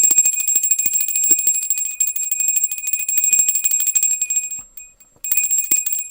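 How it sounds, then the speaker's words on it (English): A small tarot cleansing bell rings loud and close, its bright sustained tone shimmering almost continuously, briefly cutting out near the end before ringing again, with no talk. "So I am going to bring in the cleansing bell."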